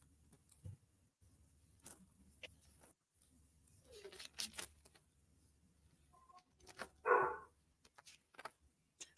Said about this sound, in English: the pause for my dog in the background